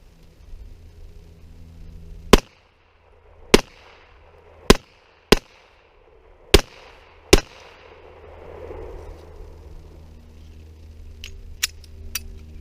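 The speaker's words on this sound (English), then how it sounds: "So this first shot that I'm going to do will be double action, and it will go right to single action." Walther PK .380 pistol fired double action then single action, six sharp, loud outdoor gunshot reports spaced about a second apart, followed by a few fainter distant bangs near the end.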